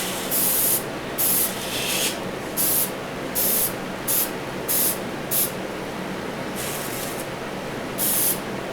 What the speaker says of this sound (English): Here's our paint going on. I used a nice glossy black lacquer.